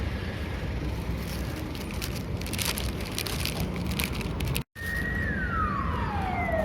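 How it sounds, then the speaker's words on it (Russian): An ambulance siren wails in the distance over steady city traffic and rain-like noise, its tone sweeping downward as it moves away. "Ох, там скорая несется где-то."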